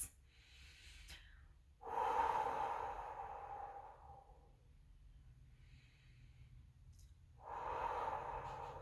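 Slow deep breaths during an ab exercise hold with knees pulled in, two long audible exhales several seconds apart, close and fairly quiet with no talking.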